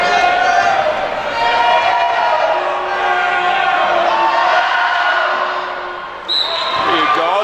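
Crowd at a high school boys' basketball game at the Moffat County Dog Pound roaring and cheering loudly and continuously in a gym, with a sharp whistle or squeak near the end.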